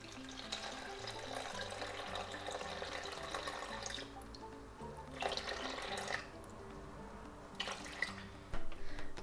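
Water is poured into a well in flour while making sourdough bread at home: soft trickling and dripping, close but faint, with a few louder splashy bursts toward the end.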